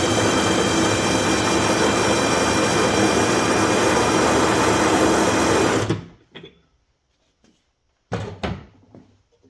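An old Craftsman lawn tractor engine runs loud and steady for about six seconds and then cuts off abruptly, followed by a few short knocks and a brief clatter in the quiet.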